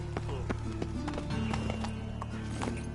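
Rapid rhythmic hoofbeats of the horse Roach galloping in The Witcher 3: Wild Hunt, a quick clip-clop over a steady low hum of game sound, close and moderately loud.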